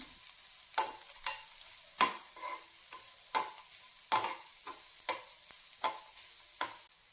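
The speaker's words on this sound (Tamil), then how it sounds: "அந்த சின்ன வெங்காயம், காஞ்ச மிளகா, கொஞ்சம் தேங்காய் இதை போட்டு நல்லா வந்து வதக்கிடுறேன்" Shallots, dried chilies and coconut sautéing in sesame oil in a pan. The soft sizzle is punctuated by about a dozen sharp, regular scrapes and stirs of a spoon, with no talking.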